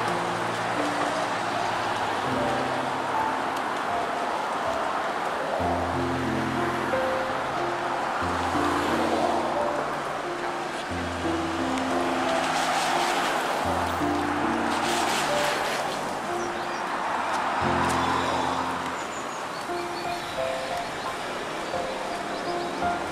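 Water splashes and rushes in a city square fountain in Samara, a steady close wash of spray heard throughout, with recurring low engine-like tones and passing background noise.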